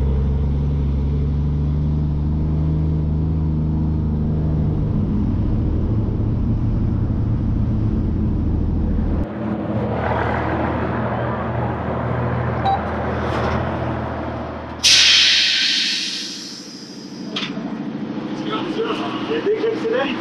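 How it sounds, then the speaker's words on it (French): Racing truck number 15 at Le Mans 2022 accelerates with a loud, deep engine roar that shifts and surges as the wheels spin, then falls away, with voices talking over it. "Dès qu'il accélère, il patine partout."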